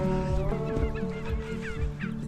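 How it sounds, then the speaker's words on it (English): Turkeys calling outdoors at a turkey farm, a chorus of overlapping gobbles and honking cries repeating steadily at close to middle distance, with no talk. "Oh, the turkeys are out."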